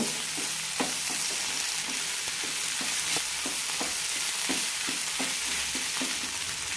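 Onions frying and caramelizing in a pan for an all-purpose curry gravy, a steady dense sizzle running throughout with regular stirring clinks and scrapes every half second or so, close and fairly loud.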